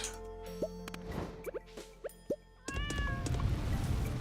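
A Stardew Valley cat gives several short, rising meows spaced out one after another, then a louder burst of noisy game sound takes over, with no talk.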